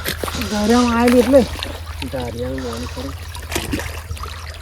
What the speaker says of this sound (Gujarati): ખાસા સમયે આવી રહ્યું પાણી